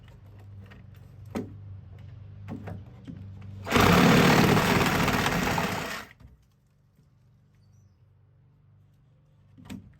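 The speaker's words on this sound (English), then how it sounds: "come in here with my sawzall" A reciprocating saw cuts through screws beneath wooden deck boards, a loud, harsh buzzing burst lasting about two seconds before stopping, with a few quiet knocks around it.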